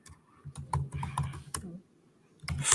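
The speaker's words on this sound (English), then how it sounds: "I'm typing it here right now in the comment section so you see it soon." Close, fairly quiet clicking of keys on a computer keyboard, typed in short irregular bursts with brief pauses, heard without talk.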